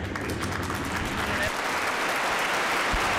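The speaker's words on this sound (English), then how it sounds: "Nice round of applause for your winner in the 5X, Mr. Danny Eberts." Crowd applause at Ventura Raceway for the winner of a VRA midget race, a sustained clapping wash from the stands with a voice speaking over it.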